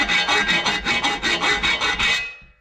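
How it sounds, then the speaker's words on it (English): A hand file scrapes back and forth over metal edges during a trike build, about ten even, rasping strokes in steady rhythm, close and loud, then stops. "I just got to do it with the file."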